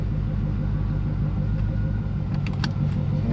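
C4 Corvette with a newly installed 4L60E automatic transmission rumbles steadily with a low engine drone as it moves off, heard close and loud with no talk over it.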